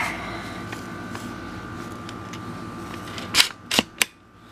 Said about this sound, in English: So press down on that as we pull back on the bolt.